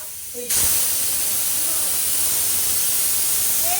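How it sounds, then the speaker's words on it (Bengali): A pressure cooker whistle releasing steam while pasta cooks, a sudden loud continuous hiss that bursts in early and holds steady to the end. "এই যে সিটি উঠছে এখনো"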